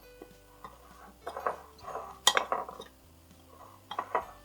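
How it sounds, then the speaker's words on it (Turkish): Ring-shaped eggless cookies stirred in powdered sugar in a bowl, giving soft scraping and light clinking knocks in an irregular rhythm, close and fairly quiet with no talking. "iyice bunu karıştırmamız gerekiyor ki her tarafına böyle pudra şekeri yayılsın"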